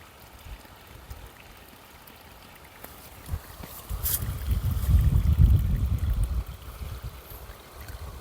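Water trickles and gurgles slowly, quiet at first and then swelling into a louder, fuller flow for a few seconds before easing off.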